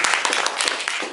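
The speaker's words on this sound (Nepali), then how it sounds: "धन्यवाद भने एकचोटि ताली" An audience at an intellectuals' forum claps together in a dense, steady burst of applause lasting about a second, with some voices mixed in.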